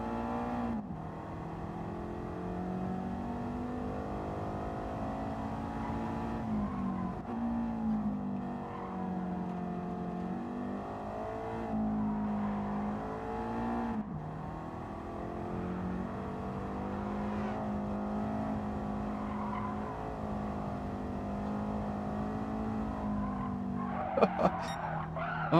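A race car in Gran Turismo 7 drives hard with a steady engine drone that rises and dips as it revs, joined by long tire squeals and skidding through corners, continuous and loud throughout.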